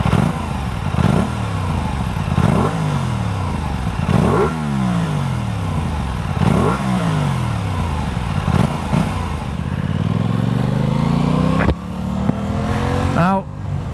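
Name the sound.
Aprilia Tuono 660 motorcycle engine running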